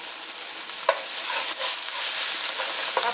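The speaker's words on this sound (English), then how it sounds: "I'm going to stir this up. I'm going to add a little bit of parsley to this." Parsley being stirred into cauliflower fried rice in a hot pan, a steady close sizzle broken by a few sharp scrapes and clicks of the utensil, with no talking.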